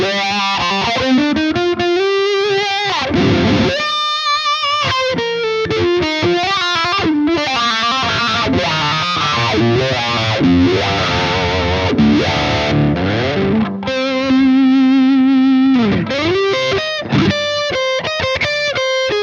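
ENGL Savage 60 Mark II amp pushing a heavily distorted metal guitar tone, with loud, continuous riffing, fast palm-muted chugs, bends and soaring lead lines, dense and aggressive throughout.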